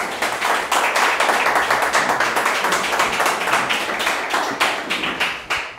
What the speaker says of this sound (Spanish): dando un aplauso fuerte a Jesús